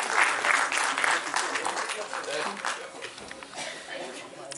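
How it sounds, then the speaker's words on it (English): Audience at a live music show applauding, a loud burst of clapping that gradually thins and fades, with a voice talking underneath. "give a huge round of applause for this young man at heart"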